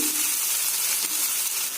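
Loud, continuous hissing sizzle of fiddlehead ferns frying in a pan, close up and steady throughout, with no voices.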